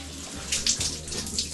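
Water runs steadily from a motorhome tap into a basin in a short continuous burst, with a hiss and splash that rises and falls slightly.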